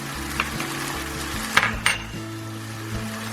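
Garam masala hits a pan of ginger and garlic and fries with a steady sizzle, broken by a few sharp stirring scrapes and clinks of the utensil against the pan, with no voices.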